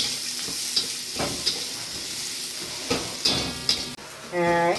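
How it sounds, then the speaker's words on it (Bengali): Chopped onion drops into hot oil seasoned with bay leaf and whole spices, giving a steady sizzle broken by a few stirring scrapes and a louder burst of frying near the end. Nobody speaks. "দিয়ে দিলাম পেঁয়াজ কুচি"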